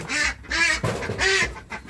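Egg-laying ducks quack loudly and close by in a rapid series of nasal calls, several overlapping, with no talking.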